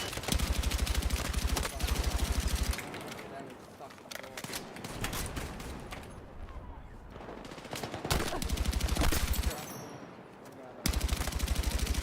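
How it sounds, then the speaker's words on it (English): Rapid machine gun bursts in a modded military shooter game, laying cover fire in loud rattling streams at the start, middle and end, with someone talking over the quieter gaps. "I'm like laying some cover fire here."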